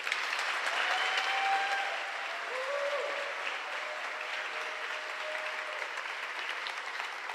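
Audience applause welcoming speaker Amber Jordan at a gala, a steady sustained clapping that fills the room at an even loudness throughout.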